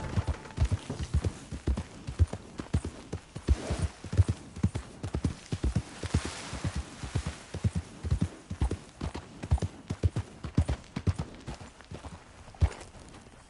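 Horse hooves clip-clop steadily in the Red Dead Redemption 2 game, a close, even walking rhythm of distinct hoof strikes throughout, with no talk.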